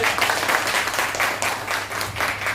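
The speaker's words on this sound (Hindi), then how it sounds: "इसके लिए जोरदार तालियां आपको बजाएं।" Applause from an audience at a drivers' union meeting in Ranchi, a loud continuous burst of hand clapping with rhythmic swells, no talking over it.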